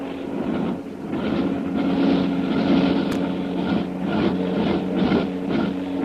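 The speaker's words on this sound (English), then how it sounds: "Karnak's plane. It's careening back to the lake again. Well, there's something wrong. Boy, oh boy, I'll say there is. Listen to those motors." Karnak's plane careens back toward a lake, its motors droning in a steady, rough hum that swells and pulses unevenly, as if running wrong, holding moderately loud throughout.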